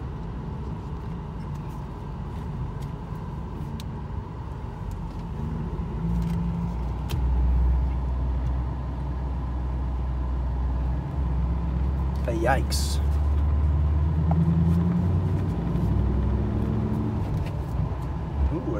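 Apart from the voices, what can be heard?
truck with fifth wheel camper towing a boat passing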